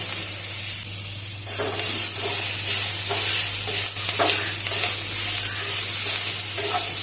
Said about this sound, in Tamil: ரெண்டு நிமிஷம் இந்த மசாலாவோட இந்த கீரை நல்லா செட் ஆகிற வரைக்கும் நம்ம வதக்கணும்.